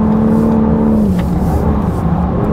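BMW M3 Competition G80 driving on a race track, its engine a steady loud drone under load with the pitch sliding gradually lower as the car eases off, continuous and close throughout.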